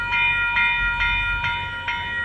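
A VIA Rail F40 locomotive, about 40 years old, rolls past close by with a steady rumble, its horn sounding in repeated bursts of sustained tones above the train noise.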